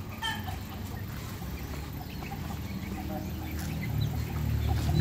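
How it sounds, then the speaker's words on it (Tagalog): Farmyard chickens belonging to a family in a rural Philippine village cluck in short scattered bursts over a low background murmur, moderately faint and close by. "Mga manok ni Papa."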